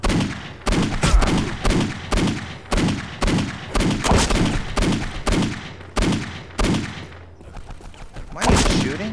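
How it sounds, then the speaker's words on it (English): Gunfire in Postal 2 rings out as a steady series of loud, close shots, about a dozen sharp blasts spaced roughly half a second apart, each with a short echoing tail. "Oh my god, I always keep getting shot at."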